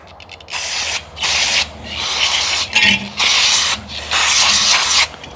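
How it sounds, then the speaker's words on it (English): Repeated hissing blasts from an aerosol spray can cleaning grease off a rear axle, close and loud, in bursts of about a second separated by short pauses. "I already blew through a whole can. I've been just kept blowing, spraying it off."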